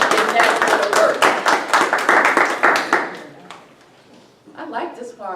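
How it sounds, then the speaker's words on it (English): Loud close applause from attendees at a local government committee annual meeting, brisk clapping for about three seconds that fades out, followed by a pause and then a person starting to speak. "give yourself a round of applause"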